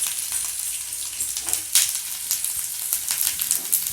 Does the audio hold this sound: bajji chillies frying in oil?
yes